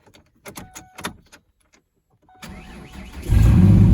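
Ford Ranger 4x4 pickup truck cold-starting: a few clicks and thumps, a brief pause, then the starter cranks and the engine catches, rising into a loud, steady idle up close.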